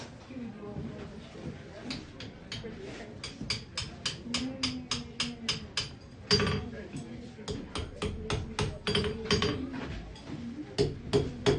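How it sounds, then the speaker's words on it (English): A blacksmith hammers metal in sharp, ringing strikes, repeated in quick runs with short pauses, close and clear over a faint background, and a voice speaks between blows. "So I'm gonna hammer that over"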